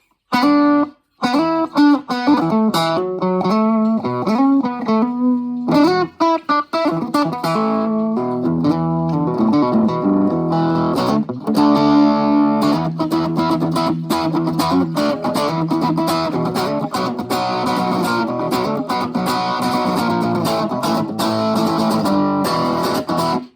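Twangy, distorted slide-style licks played on a handmade cigar box guitar, continuous and loud, with bent notes and ringing strings.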